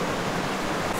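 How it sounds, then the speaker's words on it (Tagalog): River water flowing steadily near Mt. Negron in Porac, Pampanga, a continuous broadband rush that stays close and constant throughout, with no voices. "Finally, dito na kami sa ilog."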